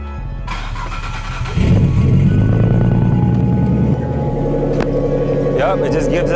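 Car engine with a deep, heavy exhaust note, idling then revving louder for a couple of seconds before easing back to a rumbling idle, close up, with people talking over it.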